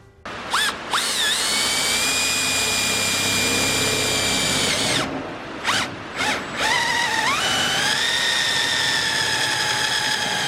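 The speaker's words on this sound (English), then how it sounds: "a hole dozer from Milwaukee, and it goes in your standard chuck." A drill driving a Milwaukee hole dozer bit cuts through 22 gauge sheet metal, giving a loud, high whining screech that runs steadily, stops briefly, then starts again with a few short bursts before a long second cut.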